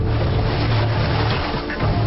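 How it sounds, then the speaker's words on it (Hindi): Heavy ocean surf churns and roars loudly and continuously around a swimmer, with turbulent rushing water pressing close. "मैंने ऐसी खतरनाक लहरें कभी नहीं देखी।"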